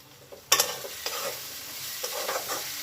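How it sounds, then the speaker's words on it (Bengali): Aloo dum spice masala being stirred and sautéed in a pan: a sudden spatula scrape sets off a close, crackling sizzle, with a few more stirring strokes, quiet and alone. "এবার এই মশলাগুলো কিন্তু সব খুব ভালো করে আমি কষিয়ে নেবো"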